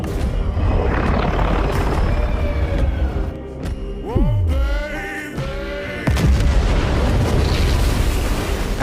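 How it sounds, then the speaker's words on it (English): Depth charges detonate underwater in a monster movie fight scene: a loud, deep rumbling blast with a descending whoosh near the middle, over a dense roar of rushing water and layered score that swells again toward the end. "After a violent explosion"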